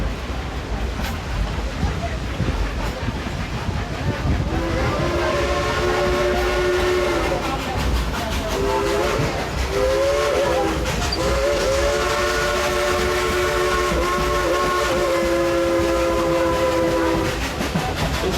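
A steam locomotive train rumbles steadily along the tracks in the Smoky Mountains, its whistle sounding in several long harmonic blasts midway, loud and close.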